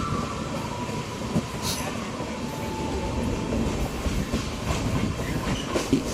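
An Amrit Bharat express train runs on the rails between Charlapalli and Thiruvananthapuram in Kerala, a steady loud rumble of wheels and carriages with faint clickety-clack beats throughout.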